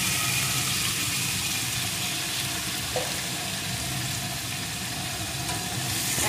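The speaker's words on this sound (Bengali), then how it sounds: "এখন আমি এর ভিতরে চিকেনটা দিয়ে দেবো।" Chicken pieces hit onion and garlic frying in a hot pan, giving a steady, dense sizzle that holds at an even level throughout without pause.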